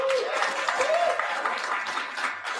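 Applause at an awards ceremony, a steady patter of many hands clapping throughout with a brief voice-like tone near the start.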